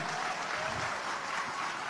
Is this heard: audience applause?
yes